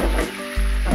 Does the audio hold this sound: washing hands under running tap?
no